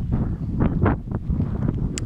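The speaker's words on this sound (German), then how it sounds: "Ich hoffe, man versteht mich bei dem ganzen Wind hier." Wind at an outdoor shooting range in Denmark, gusting and buffeting hard against the microphone in low rumbling bursts throughout, with no talk.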